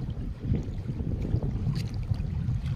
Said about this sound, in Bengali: খুবই হাওয়া আজকে, এই দেখেন ঢেউ দেখাইতেছি নদীর।